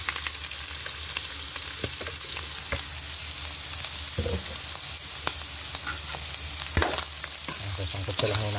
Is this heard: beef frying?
yes